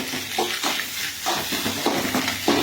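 Egg rice sautés in a pan with repeated scraping stirs over a continuous sizzle, the spatula strokes coming in a loose rhythm close to the listener, with no voices.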